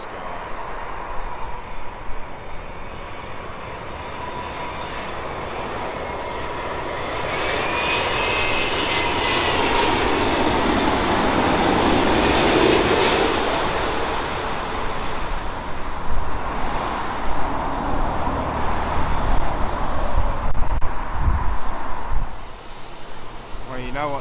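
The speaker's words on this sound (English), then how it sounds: "Out of the mist is the Emirates A380, king of the skies." An Emirates Airbus A380 arriving from Dubai to land at Heathrow, its jet engines swelling to a loud, broad roar as it passes close overhead and then fading back, with faint talk nearby.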